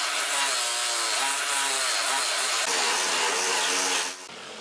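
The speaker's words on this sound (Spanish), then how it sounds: "taladré el lateral del taco de madera, realizando un agujero a 90 grados con el primer taladro" An electric drill bores a 90-degree hole into the side of a wooden block, a loud steady whining grind with shifting pitch that cuts off abruptly near the end.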